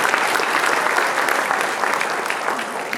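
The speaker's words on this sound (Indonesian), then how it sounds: "tepuk tangan lagi untuk Pak Basuki," Audience applauding Minister of Public Works Basuki at an Indonesian infrastructure program event, a steady, dense wash of clapping from a sizable crowd lasting throughout.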